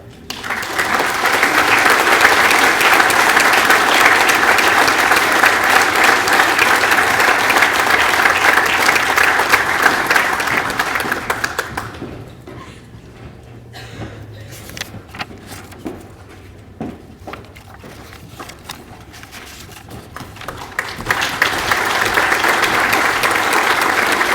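An audience at a high school awards ceremony applauds scholarship recipients, loud sustained clapping that fades to scattered claps and quiet midway, then swells again near the end.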